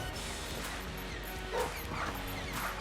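A dog in the video game Enter the Gungeon lets out short barks and yips, heard against a steady wash of game sound and music at moderate level.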